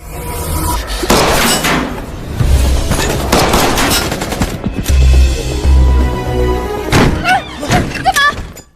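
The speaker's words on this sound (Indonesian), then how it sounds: "hingga terjadilah baku tembak" Gunfire in a film shootout on a drug-lord action film soundtrack: loud, dense bursts of shots and thuds packed across the whole stretch, mixed with music and effects, with a few sharper reports near the end.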